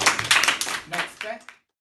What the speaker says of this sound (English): give a big applause, guys